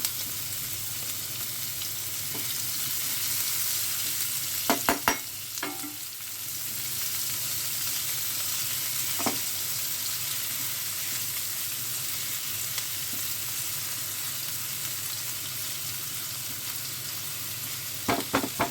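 Chopped garlic and onion fry in hot oil for a dhaba-style potato dum, giving a steady, close sizzle with a few sharp clinks and scrapes of stirring scattered throughout.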